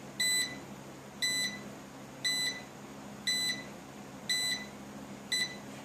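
A Syma X8SW drone remote control emits six short, high electronic beeps at an even one-second rhythm, clear and isolated over a quiet background hum.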